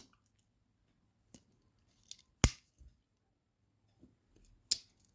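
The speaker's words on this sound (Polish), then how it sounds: "Klik jest jak w prawie Victorinoxie" Blade lock on a Mikov Praktik 115-NH-6/BK pocket knife, a few sharp isolated clicks spaced over several seconds, close and crisp against near silence.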